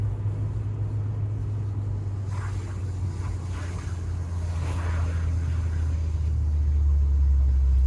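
A Volvo V70 rolls slowly down a winding mountain road above Boulder, Colorado, with a steady low engine and road rumble that grows slightly louder, plus soft rustling, and no talking.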